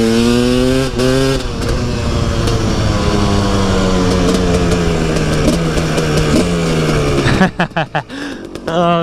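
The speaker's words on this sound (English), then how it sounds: "Oh, that's that two-stroke power," A KTM 300 two-stroke dirt bike engine revs loud and close, its pitch sweeping up and down through continuous throttle blips, then breaking into sharp choppy bursts near the end.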